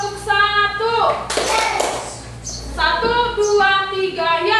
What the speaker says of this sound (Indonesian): Oke, jadi kita mau tepuk 1